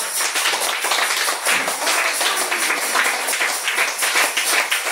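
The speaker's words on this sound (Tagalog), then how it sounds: "sabayan nyo yung palakpak" Church congregation clapping along in unison, a dense, loud run of rhythmic hand claps repeating steadily without pause and with almost no talking.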